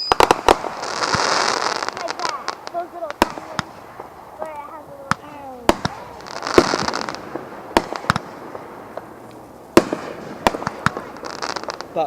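Fireworks burst outdoors in scattered sharp pops and crackling volleys, some close and loud, others farther off, while people chat between the bangs.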